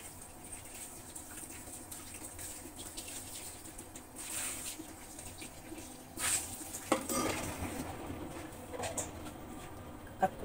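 Apples washed in a kitchen sink, with soft watery patter and occasional clinks and knocks against the basin, fairly quiet and close.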